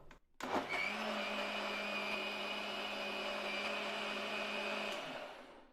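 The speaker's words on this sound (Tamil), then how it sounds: "தண்ணி சேர்த்துட்டு ஒரு நிமிஷம் அடிச்சிக்கலாம்" A kitchen mixer grinder blends papaya juice with added water. It makes a close, loud, even whir for about four and a half seconds, then cuts off.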